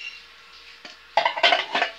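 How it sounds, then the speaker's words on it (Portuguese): Pots, pans and baking tins shifted around inside a moving box, a few close clanks and rattles of metal cookware after a quiet start. "aqui tem algumas coisas de panela"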